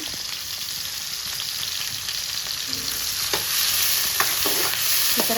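Drumstick leaves stir-fry in hot oil, a continuous crackling sizzle broken by a few scraping stirs near the end, with no one speaking.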